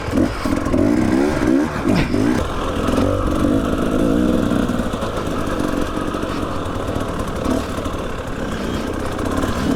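A motorcycle fitted with a traction disc clutch weight rides along a steep mountain edge, its engine droning steadily and close with bumpy, uneven throttle changes throughout.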